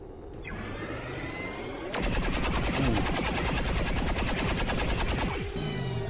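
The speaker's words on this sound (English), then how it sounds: "The soldier is gonna take some shots." An XCOM 2 soldier unleashes a sustained, evenly pulsing stream of loud automatic gunshots lasting over three seconds, set between swooshing camera and mechanism sounds, without speech.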